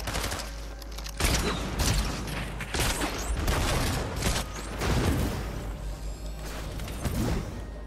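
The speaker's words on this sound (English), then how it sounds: "Stop shooting, bro." Rapid bursts of gunfire from the Fortnite video game, dense overlapping shots and impacts firing continuously and loudly with mechanical clicks and whooshes throughout.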